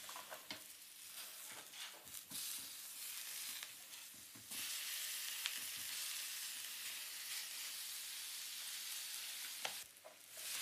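Halved pears sizzle softly on a hot grill as they are turned, a steady hiss of frying punctuated by small scraping and tapping clicks of the utensil.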